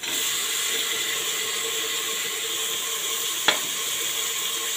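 Tomatoes added to browned onions for chicken biryani in a pressure cooker, a steady bright sizzle and hiss of frying close up, with one short scrape of stirring and no voices.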